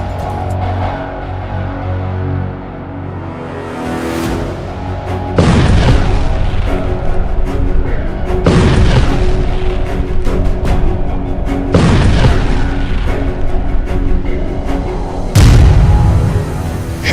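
Several heavy booms go off one after another, each a deep, loud blast rolling into a long rumble, like rocket and bomb bombardment from a distance.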